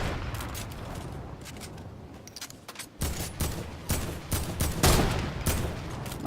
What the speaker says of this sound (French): Donc là, hop, on entend des tirs.